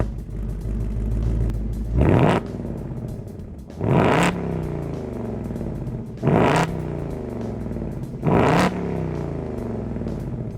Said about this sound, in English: Let's rev the engine a little bit and see how it sounds.